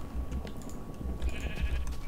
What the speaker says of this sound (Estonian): Okei, ma tapan ka lamma.